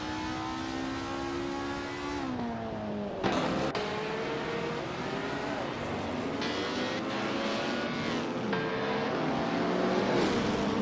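A 1950s Ferrari Formula 1 car engine in a racing video game at Bahrain Circuit whines steadily through gear changes, pitch climbing and dropping with shifts, with other cars faintly audible and no talk.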